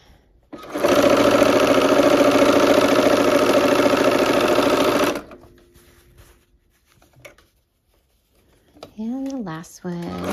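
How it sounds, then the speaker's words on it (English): A sewing machine stitches quilt pieces for a nine-patch block in one steady, close, whirring run of about five seconds, followed by quiet and then a short stretch of speech. "line those up and we'll go sew these ones now"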